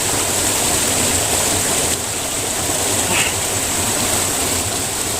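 A stream flows beside a narrow forest path, a steady broadband rush of water running continuously and fairly close throughout, with no voices over it.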